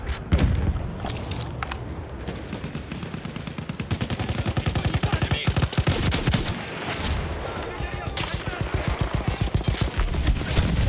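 Battlefield 1 gunfire aimed at the player: rapid bursts of close, loud rifle and machine-gun shots crackling in dense rhythmic volleys, with heavy booms mixed in and brief voices in the background.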